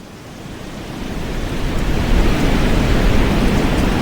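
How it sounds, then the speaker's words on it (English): Strong wind used as a storytelling sound effect swells from a moderate rush into a loud, steady roar of broadband blowing noise, building over the first two seconds and then holding. "Hey, where did this wind come from? It's really strong."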